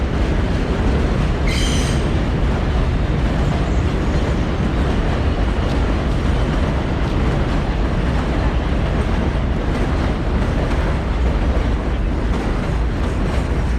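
A subway train rumbles loudly beneath a street ventilation grate in Astoria, Queens, New York, a dense continuous roar of wheels and rail noise with a brief high squeal early on, and no talk.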